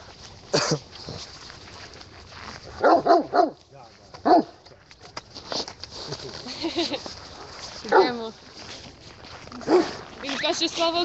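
A dog barks and yips in short bursts scattered across the stretch, near and fairly loud, with a person talking between and over the barks.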